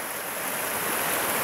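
Rapids of Tinkers Creek, a clear, scenic stream running through a shale gorge, make a steady, close, broadband rush of flowing water with no pauses and no voices.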